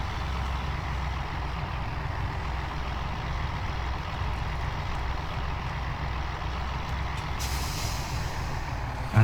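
Truck air brakes in Farming Simulator 17, heard as a steady low rumble with an air hiss, ending in a brief release burst.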